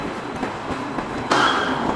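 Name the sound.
subway train arriving at the station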